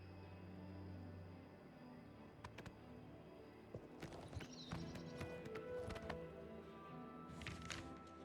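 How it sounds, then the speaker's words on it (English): Hooves of a demon horse clatter in Oblivion Remastered, irregular clip-clop beats running steadily under a constant layer of background game ambience, with no voices. "Demon horse."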